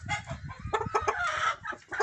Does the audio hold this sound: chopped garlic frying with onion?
no